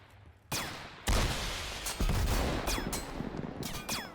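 Gunfire in the war video game Total Conflict Resistance comes as loud, sharp, irregular shots and bursts, some near and some echoing farther off, over a continuous noisy battle backdrop.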